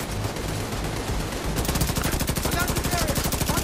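Gunfire in The Division 2 at the Lincoln Memorial, where a shooter opens up with sustained rapid automatic bursts. The sharp rhythmic shots grow louder and denser partway through, over a background of game noise.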